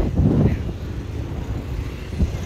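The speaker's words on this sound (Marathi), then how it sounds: "आम्ही मस्त आम्ही गाड्या चालवतोय." A motor vehicle driven on a beach trip to Divegar gives a low, close engine rumble with wind buffeting the microphone and a brief louder surge near the start.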